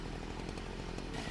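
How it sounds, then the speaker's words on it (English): A chainsaw runs at a high, steady rev, its buzzing engine drone constant and close with slight pulsing throughout, no voices over it. "The chainsaw revved to life"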